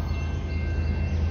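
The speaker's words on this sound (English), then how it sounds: "thought I heard a train approaching" A loaded CSX coal train approaches at a ridge summit with a steady, low rumble and a faint, thin tonal whine above it, continuous through the moment with no voices.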